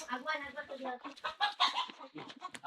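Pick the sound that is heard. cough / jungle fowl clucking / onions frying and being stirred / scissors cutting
jungle fowl clucking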